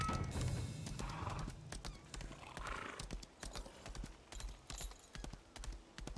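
In the video game Lost Ark, a horse whinnies at the start, then hooves clip-clop in a steady, fairly loud rhythm with a few more snorts and neighs.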